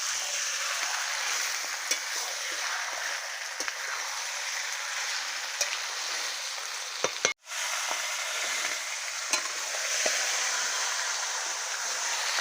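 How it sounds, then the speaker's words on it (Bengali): Chicken meat being sautéed and stirred in a pan, a continuous even sizzle like light rain with occasional soft clicks of stirring and one abrupt brief dropout midway, no voices. "এবারে মাংসটা আমি এবারে যত ভালো করে কষাবো, মাংসের টেস্টটা কিন্তু ততটাই আসবে।"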